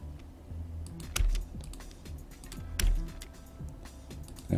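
Keys clatter on a computer keyboard during AutoCAD drafting work, with quick, soft taps and a few louder presses, close by and without speech.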